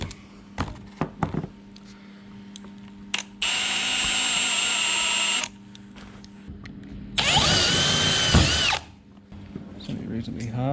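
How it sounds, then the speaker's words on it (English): A power drill whines loudly in two long bursts drilling a hole in metal on a Porsche being converted to electric, separated by clunks and handling noise, with a few brief voices around it. "So yeah, we'll drill a hole."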